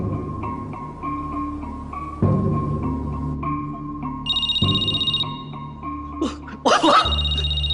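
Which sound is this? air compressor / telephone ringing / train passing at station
telephone ringing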